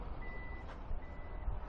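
A steady electronic warning beep sounds over a low mechanical hum as the powered tailgate of a 2017 Toyota RAV4 motors shut, ending with a soft thud.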